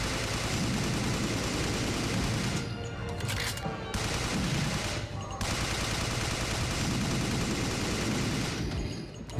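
Sustained automatic gunfire from the video game Overkill's The Walking Dead, a loud dense stream of rapid shots with brief lulls, running throughout.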